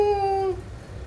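A single short, whining meow from a cat, close and clear, lasting about half a second before fading into quiet background.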